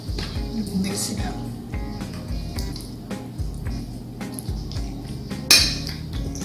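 A honey glaze sauce with sesame oil and sesame seeds is stirred in a pan, with a spoon clinking and scraping against the metal in a loose rhythm and a low background murmur underneath.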